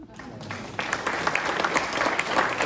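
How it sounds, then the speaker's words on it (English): Audience applause at a townhall meeting on public trail access, starting light and building into scattered clapping at moderate distance, with a voice audible underneath. "if you give yourself a round of applause"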